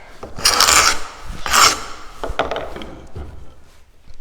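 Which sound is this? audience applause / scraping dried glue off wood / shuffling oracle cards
scraping dried glue off wood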